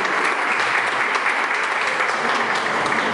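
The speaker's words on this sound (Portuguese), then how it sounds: "Uma salva de palmas para o secretário." A municipal meeting audience applauds the transport secretary, a loud, dense, steady wash of many hands clapping together without pause, with no voices rising above it.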